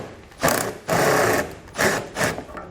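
Power tool spinning out splash shield bolts with a 7mm socket on a 2016 vehicle, three short whirring bursts close by with brief pauses between.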